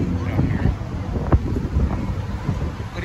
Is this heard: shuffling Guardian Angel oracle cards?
no